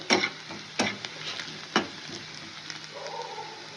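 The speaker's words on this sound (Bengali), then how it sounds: "পেঁয়াজ কুচিটা একটু হালকা ভাজা ভাজা করবো।" Chopped onion frying gently on a low flame, a soft steady sizzle broken by a few sharp scraping stirs near the start, with no speech.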